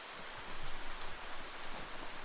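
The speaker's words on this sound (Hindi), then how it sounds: "बाहर बारिश हो रही है।" Rain falls in the video game Biomutant, a dense, steady hiss of downpour with faint patter of drops, continuous and even throughout, with no voices.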